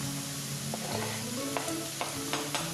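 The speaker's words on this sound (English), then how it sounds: "we'll add the onions and prosciutto to the frying pan. See that sizzling?" A thick frying pan sizzles steadily up close as onions and prosciutto cook, with a few sharp clicks of a utensil against the pan.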